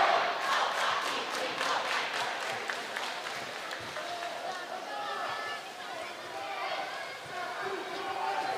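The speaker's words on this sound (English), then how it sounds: "Cheer squad getting the student section riled up." A cheer squad and a student section shout and cheer in a school gym at a girls volleyball game between Oregon and DeForest, a loud, dense crowd roar with rhythmic chanting and clapping early on, sustained throughout.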